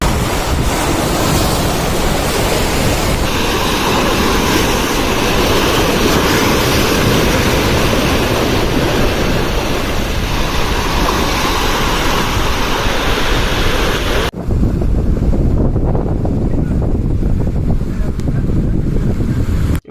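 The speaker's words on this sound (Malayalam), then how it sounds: "ഭയങ്കര കാറ്റാട്ടോ ഒരു രക്ഷയില്ല" Strong wind and crashing sea waves at Beypore beach roar continuously, loud and close, with heavy wind buffeting against the microphone; there is no talking.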